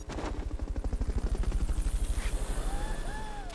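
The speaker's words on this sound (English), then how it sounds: "Except for that helicopter I just heard." Helicopter in Metal Gear Solid: Peace Walker, its rotor beating in a fast steady chop that stays loud throughout, with a couple of brief sliding electronic tones near the end.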